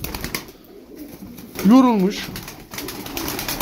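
A tumbler pigeon gives one clear, close rolling coo in the middle, with a voice speaking briefly around it and faint background noise.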